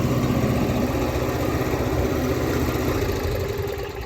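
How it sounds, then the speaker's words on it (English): A Toro GTS5 Super Recycler lawn mower engine idling after a throttle repair, a loud, steady, close-up drone with a constant low rumble and faint mechanical vibration, easing off slightly at the end. "a feeble pull gets the thing running. And then the idle is working again."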